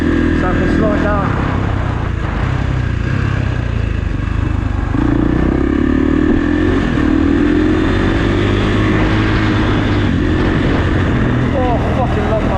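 A Kawasaki KX450 dirt bike engine drones loudly and continuously while being ridden, its pitch rising and easing as the rider coasts and accelerates, with someone talking over it throughout.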